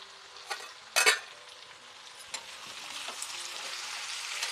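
Chopped ivy gourd (dondakaya) fries in a pan, a soft, even sizzling hiss with a sharp clatter near the start and a few light stirring scrapes, close by and without speech.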